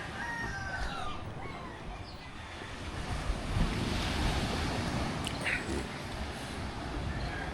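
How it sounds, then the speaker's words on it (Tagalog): Sea waves wash onto the shore at Barangay Bukana, a steady, loud, broadband surf roar mixed with wind, and a rooster crows faintly in the background. "Ito ngayon ng dagat ng Barangay Bukana."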